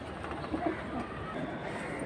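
High-flying pigeons coo softly in a few low, murmuring calls against a faint background hum. They are moderately close and no one is speaking.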